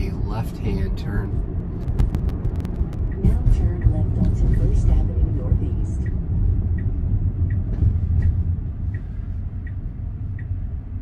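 Tesla on FSD Beta driving across town, a low road rumble and tire noise that swells midway and then eases, with occasional clicks, under someone talking throughout.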